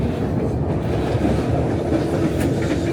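Steady low rumble of a train rolling along the tracks to Skagway, Alaska, continuous and fairly loud, with faint rhythmic clatter and no voices.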